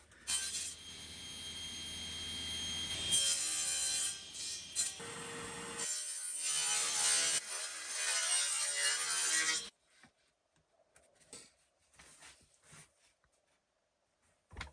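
A power saw cutting wood pieces for cutting boards, a loud sustained whining roar for nearly ten seconds, then a sharp drop to quiet with a few faint scattered knocks and handling sounds.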